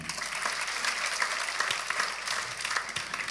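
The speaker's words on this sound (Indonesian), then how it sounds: "Beri tepuk tangan." A church congregation claps steadily, dense hand claps filling the space for a few seconds with no voices over it.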